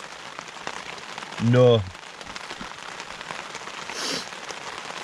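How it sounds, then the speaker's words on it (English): Rain falls steadily on a campsite, a constant pattering hiss on surfaces nearby, with someone briefly speaking over it. "No wind, just rain."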